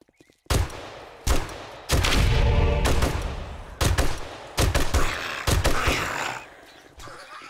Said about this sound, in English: So let's go ahead and try and use our gun to get points.